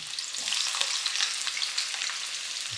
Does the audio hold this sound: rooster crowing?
no